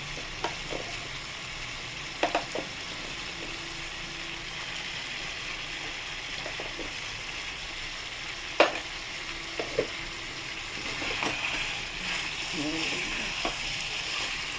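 Chicken sizzles and fries in a pan with turmeric, coriander and spices while a utensil stirs and scrapes, producing a steady hiss with scattered sharp clicks and knocks of the spoon against the pan, heard up close with no talking.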